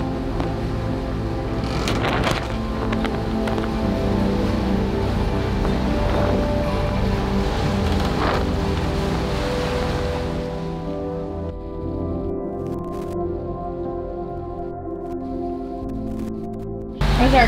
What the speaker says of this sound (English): We just this very minute turned on the motor.